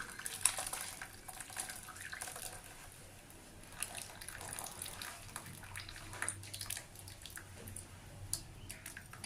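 Freshly curdled chhena (Indian cottage cheese) being strained, its whey draining and trickling steadily through a cloth or sieve at close range, a soft continuous watery patter with small drips and splashes throughout.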